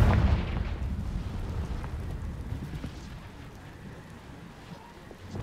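A Confringo fire spell from the video game Hogwarts Legacy bursts into a loud, rumbling explosion that decays into a crackling, rain-like wash of debris over several seconds.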